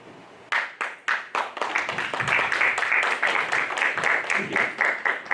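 An audience at a talk on getting money out of politics breaks into applause after a short quiet lead-in, with dense clapping that stays steady and fairly loud to the end.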